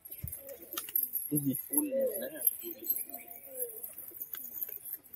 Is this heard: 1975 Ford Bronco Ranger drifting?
no